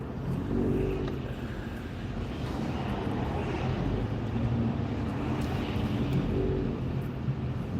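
Car driving through traffic in the United States, a steady broadband road and engine rumble carrying on throughout at moderate loudness with a faint voice beneath.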